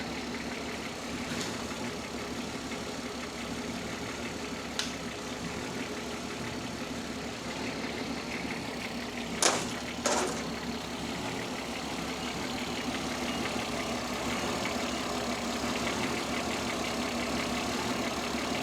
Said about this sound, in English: a bunch of engines back in there